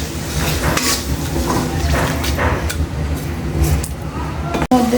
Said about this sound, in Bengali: লবণ দিয়ে মাছগুলো ভালো করে কষিয়ে নেব।